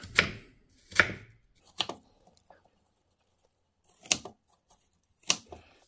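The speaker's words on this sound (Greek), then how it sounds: "εδώ κόβουμε το μήλο μας" An apple being chopped into small cubes on a board, five sharp separate knife strikes with gaps of silence between them, close and clear, with no voices.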